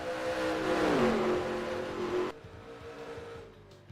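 Race truck engines in NASCAR Racing 2003 drone and rise in pitch as a pack of trucks runs close together, loud and steady, then the sound drops abruptly to a quieter, more distant engine hum.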